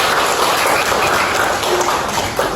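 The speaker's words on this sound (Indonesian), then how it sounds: "Tepuk tangan untuk kalian." A class of students claps together in a dense, steady burst of applause that fills the room evenly for a couple of seconds.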